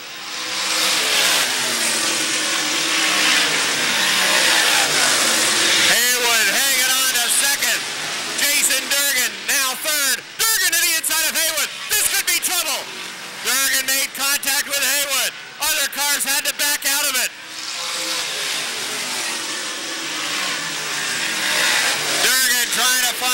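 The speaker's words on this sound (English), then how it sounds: "modifieds on the half mile going wheel to wheel, racing for the sixth position" Dirt modified race cars roar wheel to wheel around a half-mile dirt oval at Airborne Speedway in Plattsburgh, NY, with loud engines rising and falling as they pass, under an announcer's commentary.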